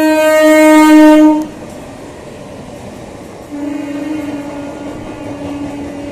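The 03196 Down Lalgola–Sealdah MEMU special passes through Kanchrapara Workshop Gate station without stopping, sounding a loud, close horn blast. A quieter stretch follows, then a second long horn over the steady rumble of the train.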